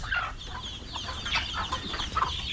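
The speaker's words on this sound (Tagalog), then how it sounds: "Nakasalubong yung mga manok. Ayan o." Several chickens cluck and chatter nearby in short, overlapping bursts over a steady outdoor hum, with no one talking.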